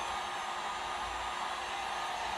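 A heat gun blows a steady, even hot-air roar onto a motorcycle graphic decal during a WR250F dirt bike rebuild, constant and close without pauses or voices.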